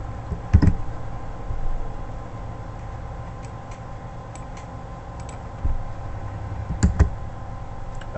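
Keys tap sparsely on a computer keyboard in a quiet room, scattered light clicks and a few quick clusters over a low steady hum.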